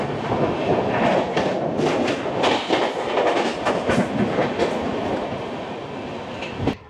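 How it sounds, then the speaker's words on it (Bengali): From on board the Sealdah–Bikaner Duronto Express (12259) rolling through Bardhaman Junction, a loud steady rumble mixes with rhythmic clickety-clack of wheels over rail joints and occasional sharper knocks, with no voices. "আমাদের ট্রেন এই মুহূর্তে পার করছে বর্ধমান জংশন।"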